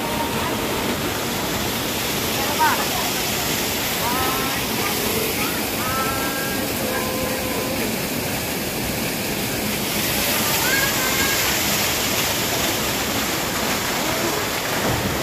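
Kipot Falls, at Sitio Macaingalan in Brgy Puray, Montalban, Rizal, roars in a steady, broad rush of falling water. The sound is continuous and fairly close, with faint calls or voices heard briefly over the noise.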